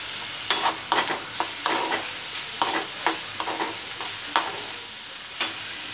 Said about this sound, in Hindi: अभी इसमें हम थोड़ा प्याज डालते हैं।